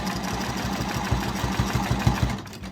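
A quilting machine stitches across a quilt, its motor humming steadily with a rapid rhythmic needle pulse, close and even throughout.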